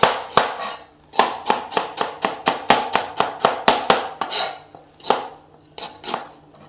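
A knife chops peeled ginger into thin slices on a board, making a fast, steady run of crisp, sharp knocks close by, then a few slower, scattered cuts after a short pause.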